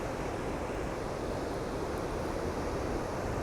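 Steady, dense roar of ocean surf at Ocean Beach, San Francisco, on a morning with surfers out, with continuous wash and hiss and no distinct breaks, fairly faint and with no voices.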